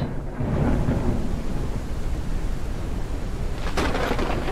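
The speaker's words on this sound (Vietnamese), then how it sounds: "Cho nó qua cơn bão này luôn chứ." Steady, loud thunderstorm in the video game Forever Skies: rain and a dense rolling rumble fill the whole stretch, with a sharper crack of thunder near the end and no voices.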